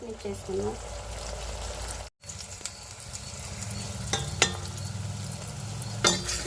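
Tomatoes sizzle and fry steadily in a hot pan with repeated stirring scrapes, heard up close as a cooking base for a leafy greens dish, with a brief dropout partway through.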